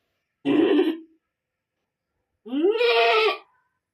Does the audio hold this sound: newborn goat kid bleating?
yes